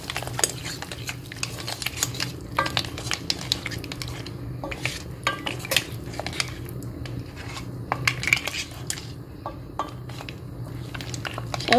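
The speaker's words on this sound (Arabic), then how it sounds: "نحرك كل شيء" Seafood spaghetti sauce with cream is stirred in a pan, a steady close scraping and clinking of utensil against metal over a low continuous sizzle, with no talking.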